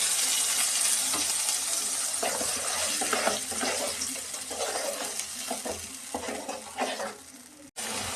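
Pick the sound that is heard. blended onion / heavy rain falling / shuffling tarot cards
blended onion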